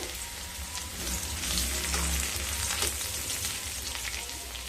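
Garlic and two dried red chillies fry in oil in a pan, a steady close sizzle and crackle running throughout with no talking.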